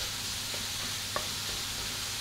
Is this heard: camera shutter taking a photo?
no